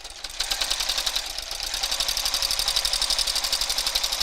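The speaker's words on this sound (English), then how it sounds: "Just need to get that underneath the teeth of the sewing machine to get a grip before it sews." A sewing machine runs top stitching at a steady, rapid pace, its needle clattering in a fast even rhythm after a brief start, close and alone without talk.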